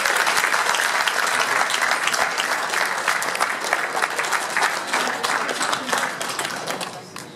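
Sustained audience applause greets a performer walking onstage at a war-story event, dense steady clapping that stays loud throughout and tapers slightly toward the end.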